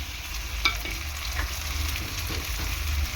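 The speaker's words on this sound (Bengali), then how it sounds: "তো দু মিনিট এরকম হালকা করে ভেজে নেবো" Fish fries in oil in a pan, a soft continuous sizzle close by with a few faint clicks of stirring.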